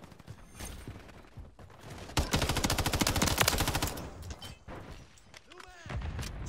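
Rapid automatic rifle fire from an MTZ-556 in Call of Duty: Modern Warfare 3, loud bursts of shots in a dense rhythm with brief gaps, mixed with game mechanisms and someone talking over it.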